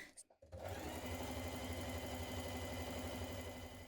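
A sewing machine runs steadily at speed, stitching rows of gathering stitches along dress skirt panels, its mechanical whir close and continuous after a brief moment of handling noise.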